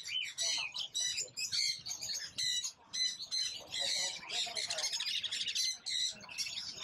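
Young birds at an exotic animal market in Bangkok squawk and chirp in dense, shrill bursts, nearly continuous and fairly close, with faint market murmur underneath.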